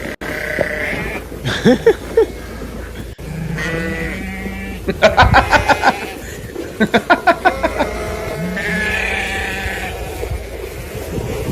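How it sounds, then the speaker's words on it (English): Several sheep bleat loudly and close by, overlapping calls with harmonic wavering tones and rapid stuttering bleats, repeating throughout. "Hey, sheep."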